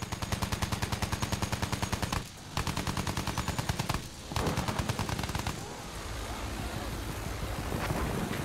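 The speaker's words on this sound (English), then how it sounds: "Spotted anti-aircraft guns!" Anti-aircraft guns pound away in a video game battle, a rapid, loud, steady stream of heavy automatic fire broken by two brief pauses, then fading into a denser, rumbling barrage with distant blasts.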